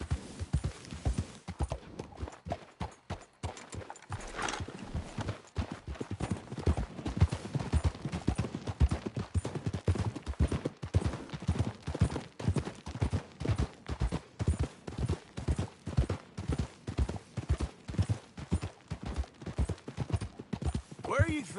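Rapid, steady clip-clop of a horse galloping in Red Dead Redemption 2, hoofbeats loud and close in a continuous rhythm, with a voice talking over parts of it.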